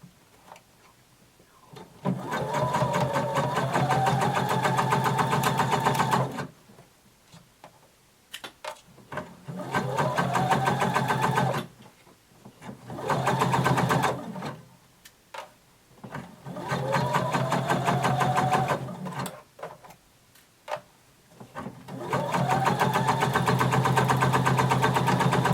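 A sewing machine stitches around a dress bodice in several steady, humming runs, with short pauses between them for repositioning. The whirring sounds close and moderately loud.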